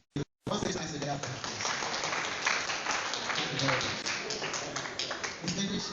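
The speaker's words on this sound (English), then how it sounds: "Very round of applause for Dr." A conference audience at a university faculty of education event breaks into sustained applause, dense and fairly close, continuing for several seconds while a voice speaks over it.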